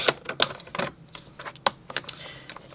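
A paper trimmer slices cardstock into strips, giving a series of short, crisp clicks and cutting snaps at an irregular pace, close and fairly quiet.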